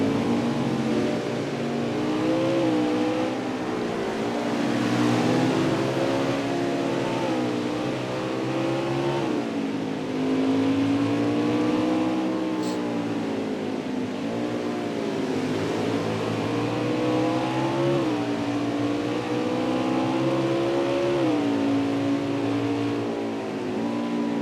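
NASCAR Xfinity race car at Mid-Ohio, its engine droning and climbing through repeated gear changes and throttle swells, loud and continuous with no speech.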